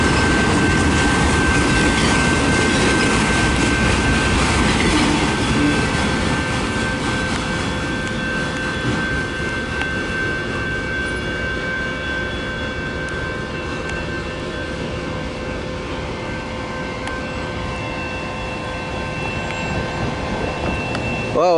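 A long eastbound autorack freight train led by CN locomotives rumbles past close by in Battle Creek, Michigan, loud and steady for the whole stretch, with faint high wheel squeals ringing over the clatter.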